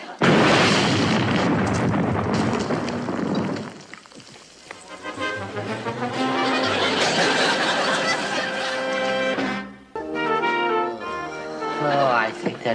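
A grenade blast in a naval comedy scene, a loud roaring burst at the start that fades out, followed by voices talking.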